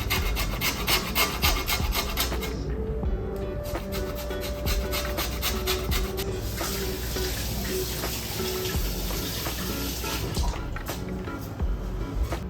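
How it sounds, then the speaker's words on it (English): A lime is zested against a grater in a series of quick, scratchy rasping strokes, close and distinct, with a brief pause partway through and a faint drip-like patter in the background. "Take some zest from the lime."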